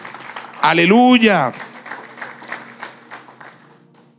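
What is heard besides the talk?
congregation applauding in church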